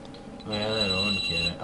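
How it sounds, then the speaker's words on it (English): A mobile phone rings loudly with a bright, sustained tone that cuts across someone talking close to the microphone. "Sorry, that's my phone."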